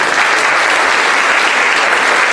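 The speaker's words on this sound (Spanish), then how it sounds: "Dale un aplauso a Dios, por favor." A church congregation bursts into sustained applause, dense and steady clapping filling the room evenly throughout, loud and close, with no distinct voices standing out.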